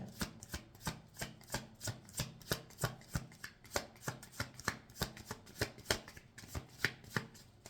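Tarot cards shuffled by hand in a steady run of crisp riffling snaps, close and fairly quiet, with no talking over them.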